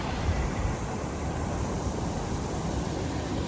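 Steady broadband rush of a creek running high after rain, heard close and continuous without pause, with a low wind-like rumble underneath.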